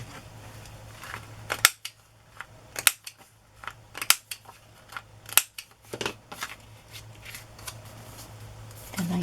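A corner rounder punches the corners of a paper card, giving several sharp, crisp clicks at irregular intervals, close and clear over faint background noise.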